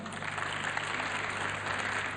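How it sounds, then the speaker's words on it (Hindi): Applause rolls through a conference hall in Lahore at the See Pakistan 2023 event, a steady, dense wash of clapping from a large audience, sustained throughout without pauses. "तो नबील के लिए तालियां"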